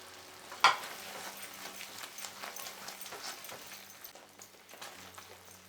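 Spices for malai kofta sizzle and fry in a pan after a sharp clatter near the start, a steady soft crackle with small stirring noises continuing throughout, with no talking.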